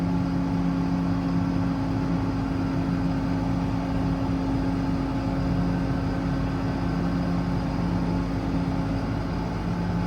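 Hydraulic Tiger 11,000-pound crane on a 2018 International mechanics truck with Cummins diesel, running at maximum speed with PTO engaged and engine idled up: a steady, loud droning whir and hum, constant throughout, no talk.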